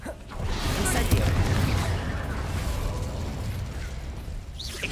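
A Hogwarts Legacy fire spell goes off with a sudden fiery burst, then a sustained roaring, crackling rush that slowly eases, a faint flare closing it; no talking over it.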